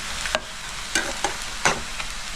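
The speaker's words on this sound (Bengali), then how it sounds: "পেঁয়াজটাও আমি হালকা লাল করে ভেজে নেব।" Onions fry in a pan while a spoon stirs them, giving soft sizzling under four or five sharp scraping clicks spaced unevenly across a brief, fairly quiet stretch.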